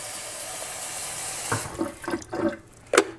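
Cold water runs from a kitchen tap as a steady broadband rush for about a second and a half, then gives way to a few short splashy bursts and clunks as the flow is caught and shut off.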